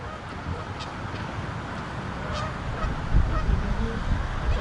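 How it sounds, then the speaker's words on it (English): Geese honk along a flooded Kansas river walk, their calls scattered and partly buried in a steady broadband wash of rushing floodwater and wind that swells slightly toward the end. "But the geese are having a good time."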